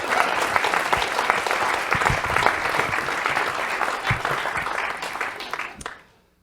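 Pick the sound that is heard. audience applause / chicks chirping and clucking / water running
audience applause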